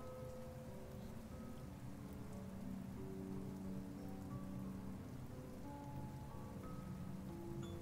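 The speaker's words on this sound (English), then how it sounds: "I don't want to be in the rain for any more than's necessary." Steady rain falls as a soft, continuous hiss with a low rumbling undertone, a faint background sound effect from the dragon visual novel Angels With Scaly Wings.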